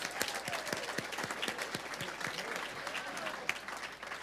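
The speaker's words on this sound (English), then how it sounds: "A round of applause." Scattered, fairly faint audience applause at a physician assistant program graduation celebration, separate hand claps audible through a soft crowd murmur.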